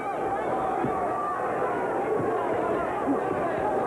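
A loud hometown crowd at the Virgil Hill versus Bobby Czyz boxing match, a steady roar of massed voices and cheering filling the arena without letup, with a commentator talking over it.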